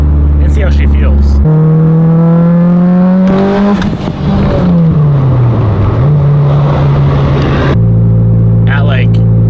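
A Mitsubishi Evo engine pulling hard in third gear toward 7,000 RPM with turbo boost, a loud rising engine drone climbing in pitch, then a shift and settling, with wind noise.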